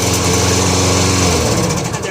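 A lawn mower engine runs loud and close after its ignition coil was replaced, a steady buzzing drone that shifts in pitch partway through as it settles.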